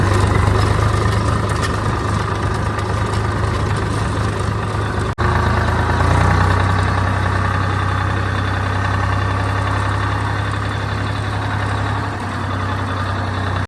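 A tractor engine idling on a farm, a steady loud low rumble with a constant mechanical drone that briefly cuts out and restarts, then settles into a slightly quieter continuous run.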